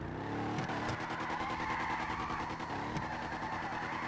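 Rear-wheel-drive car in GTA 5 sliding and skidding, with a quiet steady engine drone and tire squeal running throughout.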